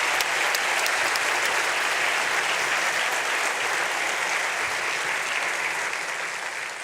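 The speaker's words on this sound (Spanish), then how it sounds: "les pido que le reciban con el aplauso que se merece" Sustained applause from a conference audience welcoming a keynote speaker at an AI forum, a dense, even roar of clapping that holds steady and tapers slightly toward the end, with no voices over it.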